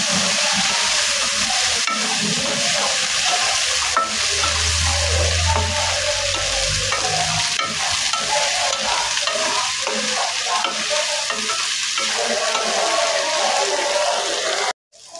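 Potatoes and beans fry in a pan while being stirred: a steady, loud sizzle runs throughout with repeated scraping and stirring strokes, ending abruptly near the finish.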